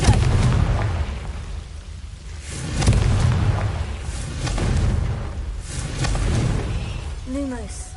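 Confringo blasting curse explosions in Hogwarts Legacy, several deep booming blasts rising and fading in turn, with a voice speaking over the game sounds.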